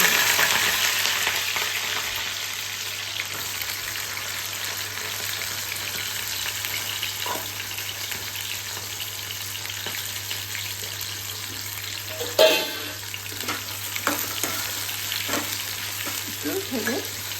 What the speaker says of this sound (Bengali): এখানে আমি এটা কী বলে এটা কাঁচকলাটা ভেজে নিয়েছি